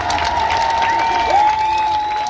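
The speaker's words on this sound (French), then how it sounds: "On vous applaudit également" An audience applauds at an outdoor festival concert in Tarbes, a dense, loud wash of clapping under a sustained tone from the stage sound system.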